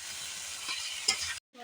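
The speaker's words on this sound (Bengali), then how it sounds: "এবারে এগুলো সবগুলো ভালো করে নাড়াচাড়া করে নেব।" Chicken pieces and fried potatoes being stirred in an oily pan for chicken kosha, a steady scraping and sizzling that runs close and fairly loud, with a sharper clatter near the end before a brief silence.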